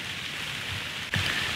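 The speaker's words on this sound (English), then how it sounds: "Rain, guys." Rain falling on public hunting land in Texas: a steady close hiss of drops that swells slightly louder near the end.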